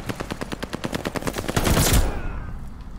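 Rapid MP40 submachine gun fire in the Call of Duty Vanguard video game, a tight burst of evenly spaced shots rattling for about two seconds before cutting off into a short ringing tail.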